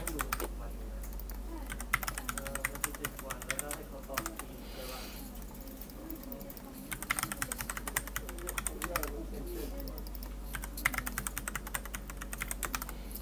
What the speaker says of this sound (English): in this case, I will type my password